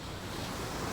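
Heavy surf pounds a hurricane-battered beach at Punta Cana, a steady broadband roar of breaking waves mixed with wind rumble, loud and continuous throughout with no voices.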